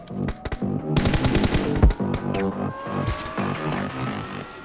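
Video game gunfire, rapid machine-gun bursts firing in dense repeated volleys close up, with a loud single crack partway through and continuous shooting running to the end.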